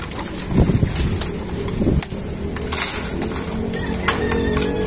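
Pigeons coo softly amid outdoor bustle, with occasional wing flaps and scattered clicks; faint voices in the background.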